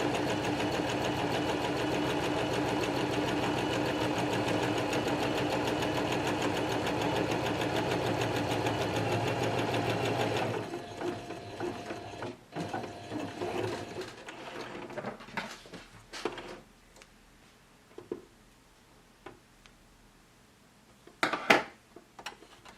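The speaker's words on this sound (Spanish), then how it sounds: "y ahora al coser solo tenemos que seguir el borde" A sewing machine stitches along the edge of masking tape stuck to its base, a steady rapid whir for about ten seconds, then stops, leaving faint handling clicks and small knocks.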